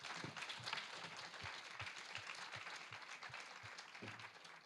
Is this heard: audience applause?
yes